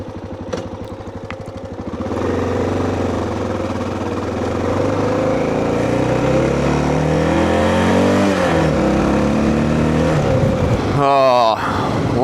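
A Honda XR650L adventure-build motorcycle engine at night, rising from a steady idle into a loud, sustained drone with clear pitch shifts as it revs and changes gear, close and continuous throughout.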